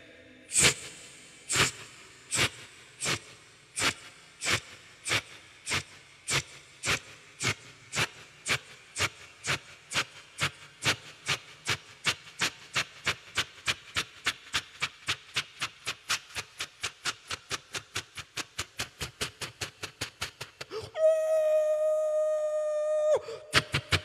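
A human voice imitates a train slowly pulling out of a station: evenly spaced huffing chuffs that gradually quicken into a fast rhythm, then a sustained shrill whistle near the end.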